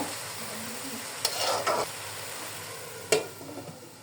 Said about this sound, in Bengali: এখন ঢাকনাটা তুলে একটু লেড়ে দিব, ঢাকনাটা ঢেকে দিব। এইভাবে আমি ভাজিটাকে করে নিব।